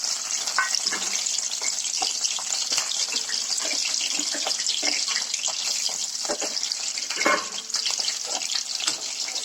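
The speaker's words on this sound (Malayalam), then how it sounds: "കുറച്ച് വെളിച്ചെണ്ണ ഒഴിച്ചു കൊടുക്കാം. അതിലേക്ക് നമ്മൾ അരിഞ്ഞു വെച്ചിരിക്കുന്ന വെളുത്തുള്ളി, പച്ചമുളക്, ഇഞ്ചി എന്നിവ ഇട്ട് കൊടുക്കാം." Chopped garlic, green chilli and ginger fry in hot coconut oil for a Kerala-style tomato chutney, giving a steady, close hiss of sizzling with scattered pops and crackles throughout.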